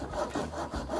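A hand saw rasps through a wooden board for a ladder bookshelf, a steady back-and-forth rhythm of close, scratchy strokes with no voices.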